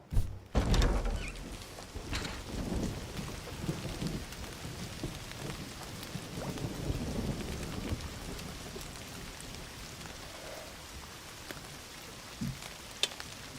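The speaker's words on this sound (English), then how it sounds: "Don't you love rain?" Steady rain falls on a balcony, with a loud thunderclap at the start and continuous rainfall hissing evenly throughout.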